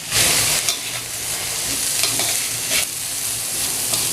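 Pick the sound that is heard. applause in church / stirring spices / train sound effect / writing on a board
stirring spices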